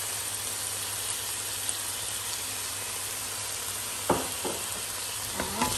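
Sotanghon glass noodles with pancetta sizzle steadily in a pan while being stir-fried, a constant hiss broken near the end by a few sharp scrapes and stirring knocks.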